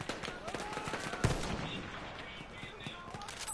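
Rapid gunfire crackles through a Battlefield 1 open beta match in busy bursts, with one sharp, loud report near the middle over a constant dense wash of battlefield noise.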